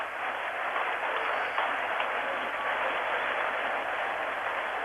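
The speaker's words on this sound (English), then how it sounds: "Superb round of applause for a fine innings, a generous crowd, capacity crowd here." A large capacity cricket crowd at the 1987 World Cup applauds a batsman's half-century steadily and evenly, a dense wash of clapping that holds without pause.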